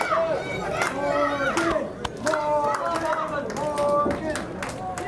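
Wrestling crowd in an arena cheering and clapping steadily, a dense wash of chatter, shouts and applause sustained throughout.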